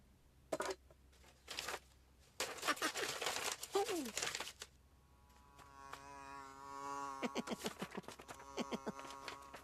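A cartoon fly buzzes in a sustained whining drone amid rustling, scuffling effects and brief bursts of noise.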